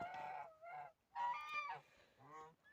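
Several geese honk in a short run of loud, nasal calls, close by, with brief pauses between bursts.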